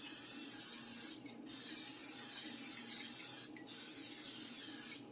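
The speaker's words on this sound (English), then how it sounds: "you're going to give your pan a good healthy spray of your favorite butter spray" A steady butter-flavored cooking spray hisses into a pan for a few seconds at a time, broken by two brief pauses, loud and close.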